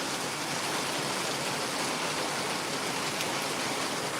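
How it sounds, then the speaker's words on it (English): Steady, dense rain falling outdoors in Mississippi, a loud, continuous broadband hiss with no pauses and no talk over it. "Raining again, by the way."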